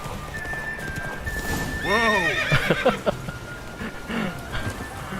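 A horse in The Witcher 3 video game neighs loudly and whinnies in several rising and falling calls over rhythmic hoofbeats, close and clear with game ambience.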